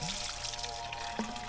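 Drinking water poured outdoors in a countryside setting near a cold river, a steady close trickle and splash over faint background ambience, without talk.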